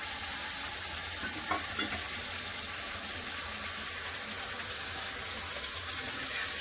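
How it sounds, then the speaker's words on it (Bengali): A ginger, garlic and tomato spice paste fries in a pan with a constant, even sizzle, close and unbroken, with a faint stir or scrape now and then. "এবার মশলা খুব ভালো করে কষে নেবো"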